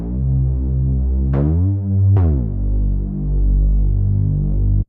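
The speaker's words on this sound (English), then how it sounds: "That would be the basics of doing this Reese Bass." Reese bass synth built in Serum with a compressor, a thick, steady low droning bass that throbs and beats as the detuned layers phase against each other, with two sharp pitch sweeps breaking the sustained tone before it cuts off.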